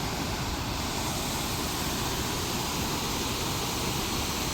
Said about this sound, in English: This is probably the best waterfall in the Midwest.